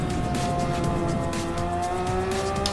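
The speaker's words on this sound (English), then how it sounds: "We're gonna downshift nice and lightly into fourth just so we can take this corner easy" Porsche 996 engine in a racing video game on the Nordschleife, a steady loud engine drone with gliding harmonics as it downshifts, continuous and close throughout.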